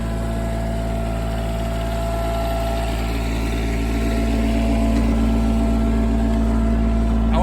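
A John Deere F925 mower with a 3-cylinder Yanmar diesel and 72-inch cut runs steadily nearby, a loud continuous droning hum with no pauses.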